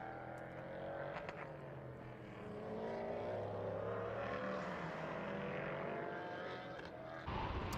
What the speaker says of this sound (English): Such a distinctive engine note on this car versus the LMP3s, as you can hear.